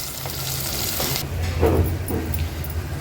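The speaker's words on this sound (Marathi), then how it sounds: "आता मीडियम फ्लेमवर हा कांदा आपण शिजवून घेऊया" Spring onion and green chillies cook on a medium flame with a steady close sizzle for a traditional Bhogi vegetable dish, and a spoon stirs through it in short scrapes near the middle.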